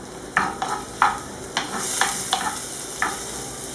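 Onions frying with the ingredients for a mussel tajine in tomato sauce, a steady sizzle broken by several sharp scraping stirs of a utensil in the pan, close and fairly loud.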